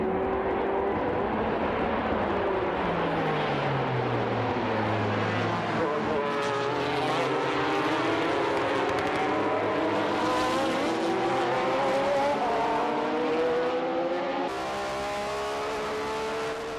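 JGTC race cars at a rolling start at Fuji, a loud sustained roar of several engines with rising and falling pitch sweeps as cars pass and accelerate, a voice talking over it.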